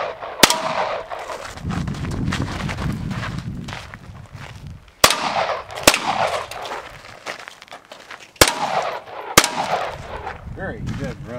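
Sharp, loud pistol shots from a red-dot-sighted handgun on a competition shooting stage, fired in spaced singles and pairs over about eleven seconds, with rustling movement and faint background noise between them.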